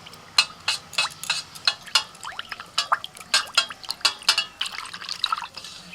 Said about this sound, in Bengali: চুন এই জলের মধ্যে গুলে নিচ্ছি।